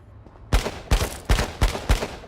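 Five sharp gunshots in H1Z1 King of the Kill, spaced about every half second in a steady rhythm, loud and close with short decaying tails after a quiet start.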